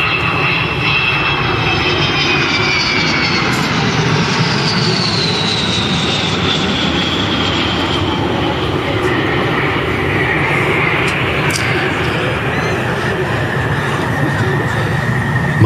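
Avro Vulcan XH558, a four-engined British delta-wing bomber, roars past at an airshow at East Fortune, a loud sustained jet rumble with a rising whine and swelling tone as it passes, with no talk over it.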